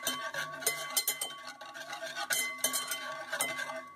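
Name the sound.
whisking egg yolk with milk and cream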